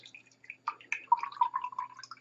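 Liquid dripping and trickling through a filter while crystals are filtered in a chemistry synthesis of toluic acid, soft irregular drips clustering into a faint gurgling run, quiet and close.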